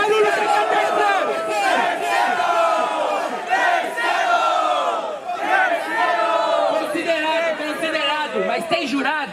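A dense crowd at a Brazilian state-qualifier rap battle final roars, cheers and shouts continuously, a loud sustained wall of many voices yelling together.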